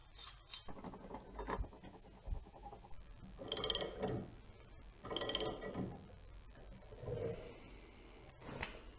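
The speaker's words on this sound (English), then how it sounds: "I went out and rented what's called a pulley puller, and we're going to give this a shot." Rented pulley puller working on a stuck Craftsman snow blower pulley, quiet clicking and ratcheting mechanical noises with a few louder scraping bursts, close and irregular, no talking.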